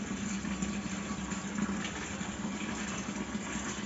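A child splashing and stirring water at home, heard as a steady, dense rush of churning water close by that runs unbroken throughout, with no talking over it.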